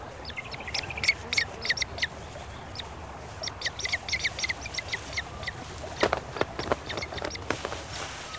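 Spoonbills calling at a nesting colony among elder bushes by the water on the island of Texel, with chicks present; scattered short calls and bursts come at irregular intervals over a constant low outdoor rumble, some close, others farther off.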